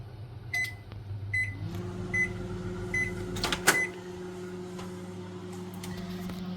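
A Panasonic NN-CD88 microwave oven cooking a jacket potato starts with a few clicks and beeps, then settles into a steady low electrical hum and fan drone, with a brief rattle midway, quiet and continuous.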